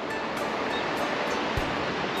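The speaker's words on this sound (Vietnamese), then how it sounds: "Suối này khá là to ấy, nước hiện tại cũng nhiều." A large, full mountain stream rushing through the Sapa rice terraces in harvest season, a steady broadband wash of flowing water heard up close with no voices over it.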